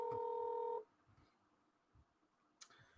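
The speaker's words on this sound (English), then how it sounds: "are you ringing Tanya?" A telephone call is placed: a loud, steady two-tone telephone signal sounds for under a second, then cuts to quiet background with a few soft knocks.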